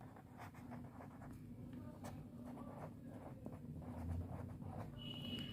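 A pen writes an amount on paper during an accounting lesson, giving faint, close scratchy strokes in short bursts over a quiet room hum.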